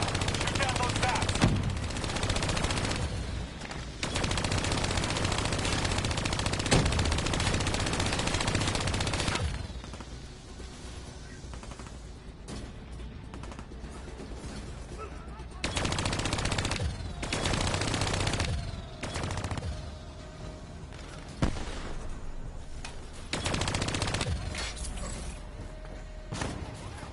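Gunfire in the Call of Duty Black Ops 3 campaign as bats are shot down, with sustained bursts of automatic fire alternating with quieter stretches of mechanical creaks and game sounds, and a voice speaking over parts of it.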